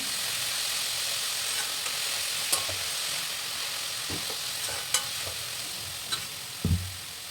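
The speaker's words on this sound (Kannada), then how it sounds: "ನಾನೀಗ ಕಾಳುಗಳನ್ನು ಹಾಕಿ ಮತ್ತೆ ಒಂದು ರೌಂಡ್ ಫ್ರೈ ಮಾಡ್ಕೊಳ್ತೀನಿ" Sprouted grains frying with onions in a pan give a soft, steady sizzle broken by a few scattered clinks and scrapes of a spoon, fairly quiet and without speech.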